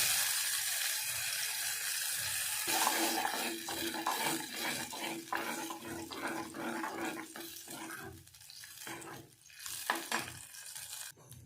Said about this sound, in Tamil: இன்னும் கொஞ்சம் இதில் தண்ணி சேர்த்துக்கலாம்